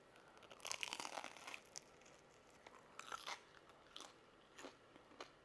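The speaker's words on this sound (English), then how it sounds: "I'm gonna go toast a piece up so we can get that good crunch." A slice of toasted homemade sourdough bread is bitten and chewed up close, with a series of crisp, dry crunches in irregular bursts against a quiet background.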